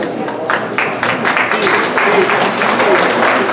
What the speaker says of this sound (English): I think we need to give again a round of applause to Ella and the crew and Dave